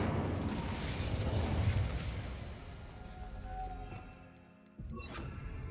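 Incendio fire spell cast in the Hogwarts Legacy video game, a rushing, roaring burst of flame that fills the first seconds and slowly fades, followed by a brief crackling pop near the end.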